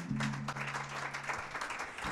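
Brief audience applause for a guest on a live show, a short burst of clapping under a steady low hum, fairly soft and even throughout.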